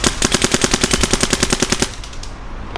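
A Madman DLX Luxe airsoft gun fires a rapid full-auto burst of about twenty evenly spaced shots in cold weather, loud and close, then stops abruptly with only quiet outdoor background remaining.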